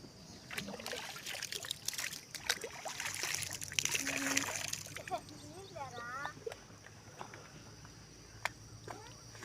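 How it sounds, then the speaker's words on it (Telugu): The Penna river, running full with flood water after gates were opened, rushes in a steady broadband wash with splashing, while people talk over it close by. "ఈరోజు పిన్నా నదికి ఫుల్ నీళ్ళు వస్తున్నాయి."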